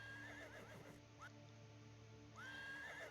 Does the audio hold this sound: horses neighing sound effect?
yes